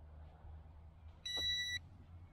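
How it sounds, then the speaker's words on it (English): A single clear electronic beep from an SHRC iCamera 2 5G WiFi FPV drone during compass calibration sounds for about half a second against a quiet low hum. "Beeping a couple of times here"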